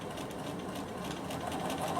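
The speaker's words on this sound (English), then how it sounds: "go to your machine and just do a second row of stitching under your arm" A Bernina sewing machine runs a second row of stitching on fabric for a summer top, a steady close mechanical whirr with rapid needle chatter, unbroken for the whole stretch.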